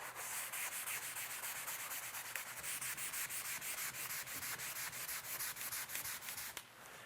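Gamboge oil paint is rubbed onto a small oil sketch, a soft, continuous scratchy rubbing of brush or rag on the painting surface, quiet and close, with a rhythmic back-and-forth texture and no talk.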